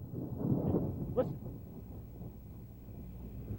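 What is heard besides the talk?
thunder during a snowstorm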